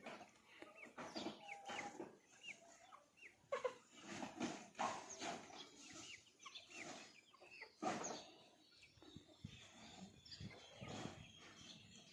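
Free range chickens pecking and clucking along a fence line outdoors, with soft scattered clucks and rustling throughout, a few louder calls standing out, and no talking.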